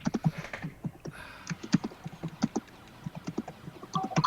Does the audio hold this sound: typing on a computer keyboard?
yes